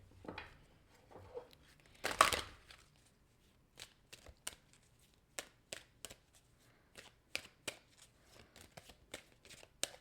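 Tarot or oracle cards are shuffled during a card reading, then a card is drawn: a soft rustle, then a sharp riffle, followed by a string of light, crisp card snaps spaced out, close and quiet.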